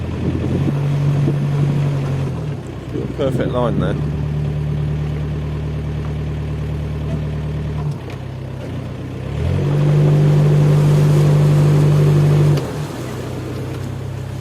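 A narrowboat engine hums steadily, with the revs rising for a few seconds before settling back to idle; someone speaks briefly early on.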